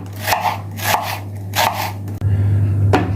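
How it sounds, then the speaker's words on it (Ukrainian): Two onions, about 200 grams, are sliced into half-rings with a knife on a cutting board, giving four sharp, crunchy chops at an even pace, loud and close with no talking. "візьмемо дві цибулинки, приблизно грам 200 у нас, і наріжемо її напівкільцями"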